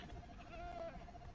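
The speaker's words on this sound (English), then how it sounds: "Oh, was that the goat?" A goat bleats once in a mining video game, a faint drawn-out wavering call under steady background game noise.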